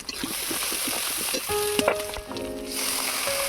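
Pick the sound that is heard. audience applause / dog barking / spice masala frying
spice masala frying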